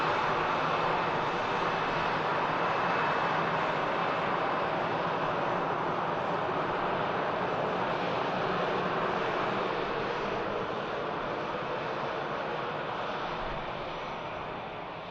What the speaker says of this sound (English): Aer Lingus taxis off.